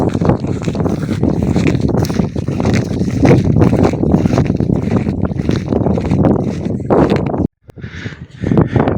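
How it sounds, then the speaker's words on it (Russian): Strong wind buffets the microphone outdoors on a hillside near a village and grain field, a loud, continuous rushing roar that drops out briefly near the end before gusting back. "Ветер здесь сильный."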